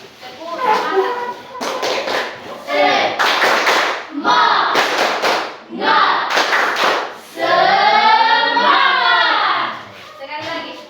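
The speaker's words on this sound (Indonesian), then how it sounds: "Tepuk semangat." A school class claps in rhythmic bursts of sharp, loud hand claps, mixed with children chanting together in a group between and over the clapping patterns.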